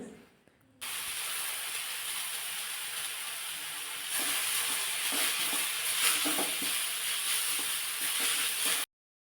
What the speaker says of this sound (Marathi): चांगलं एक मिनिटभर ही पानं व्यवस्थित छान अशी परतून घ्यायचे